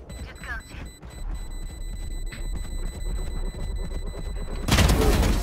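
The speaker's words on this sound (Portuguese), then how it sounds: "Olha que bela explosão." A loud, sudden explosion in the game Valorant bursts near the end, following a stretch of steady in-game noise and tonal beeps.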